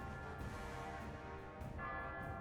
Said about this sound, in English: they are ringing the bells